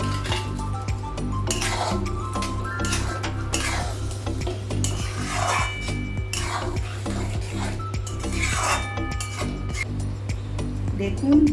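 Veg manchurian balls going into gravy in a pan, with clinks of a utensil against the pan and stirring sounds over a steady background hum.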